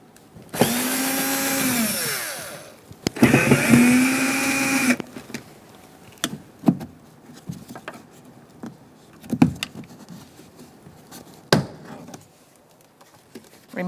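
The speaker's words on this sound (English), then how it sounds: "Now you're going to take out the screws around the speaker." Phillips head screwdriver backing out the screws around a rear door speaker on a 2004-2009 Mazda 3, with two long loud whirring bursts of a power driver followed by scattered clicks and taps from handling the parts.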